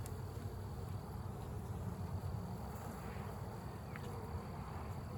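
Honey bees in an opened hive box holding about nine frames give off a steady, low, continuous hum, close and even throughout with no voices.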